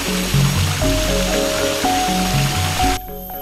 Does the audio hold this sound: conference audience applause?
no